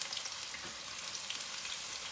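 Anglo-Indian mince cutlets fry in oil heated higher than normal, giving a steady, dense sizzle and hiss that carries on without a break, close and moderately loud.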